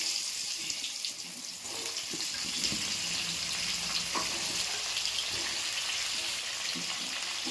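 Potatoes meant for a chicken curry fry in hot oil that was just used for fish, giving a close, steady crackling sizzle that runs the whole time with faint small clatters now and then.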